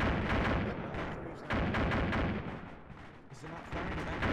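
Gunfire in the Arma 2 video game during an attack on a village, heavy booming shots and automatic fire rolling continuously, loud and dense, with voices talking over it.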